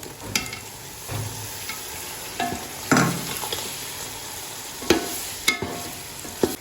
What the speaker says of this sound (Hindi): अब इसमें मैं ऐड करने लगा हूँ टमाटर।